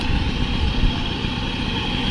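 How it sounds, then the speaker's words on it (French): A moped left idling beside a table at the water's edge, a steady low engine rumble running evenly and close throughout, with no voices over it. "Laisse tourner le moteur."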